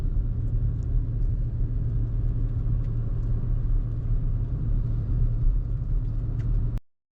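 A car drives along a snowy, slippery Colorado winter road, its steady low engine and tyre rumble filling the cabin continuously before cutting off abruptly near the end.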